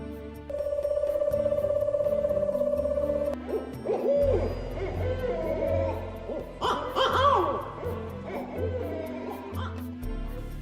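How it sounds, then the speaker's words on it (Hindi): An owl held captive by villagers, tied with ropes, gives sustained hooting over a low droning background, followed by a stretch of rough mixed voices and chatter. "इसलिए सुबह होने से पहले जब ये उल्लू अपने घोंसले में नहीं लौट पाया तो ग्रामीणों के हत्थे चढ़ गया।"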